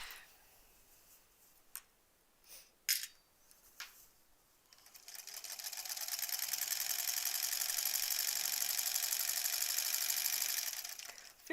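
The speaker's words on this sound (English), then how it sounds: "I feel like I'm sewing straighter than usual too" Sewing machine stitching the borders of a granny squares quilt: a few sharp clicks and taps, then a steady, fairly loud mechanical whir that runs unbroken for several seconds before stopping.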